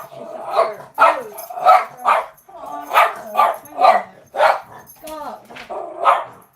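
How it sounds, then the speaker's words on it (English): A dog barks about ten times in a steady, evenly spaced series, close by and fairly loud, each bark short and sharp. "You stop your barking."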